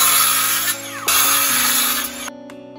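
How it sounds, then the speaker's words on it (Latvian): A power saw cuts pine board parts to length for glue-up, a loud steady whine with a cut that rises and ends abruptly near the close, leaving a quieter motor hum. "paņemšu zāģi un sagarumošu jau detaļas priekš līmēšanas"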